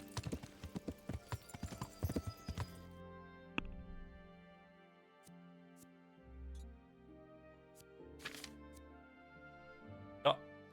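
Hooves clip-clop in a quick, brisk rhythm for a few seconds, then fade into sparse thumps and clicks over a low soundtrack in the video game Kingdom Come: Deliverance.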